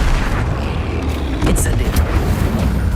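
A Bombarda explosion spell goes off in the video game Hogwarts Legacy, a deep booming blast with rumble and sparkly effects, loud and mixed with game sounds and a talking voice.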